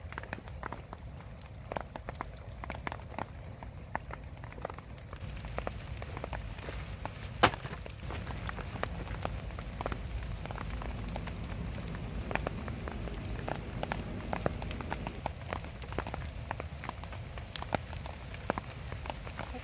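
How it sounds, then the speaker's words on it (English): Light rain drizzles at an outdoor campsite, a steady patter of small drops with occasional louder taps on a nearby surface, close and fairly quiet throughout with no talking. "Oh, it's starting to drizzle."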